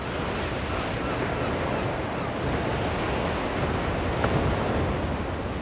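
Surf washes steadily against the frothy North Atlantic shoreline off the Scandinavian coast, a constant, loud roar of breaking waves with wind noise buffeting the microphone throughout.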